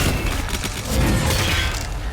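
Shotgun blasts in DOOM: The Dark Ages, firing three shots per trigger pull: loud, dense booming bursts blend into one continuous roar of gunfire and battle noise.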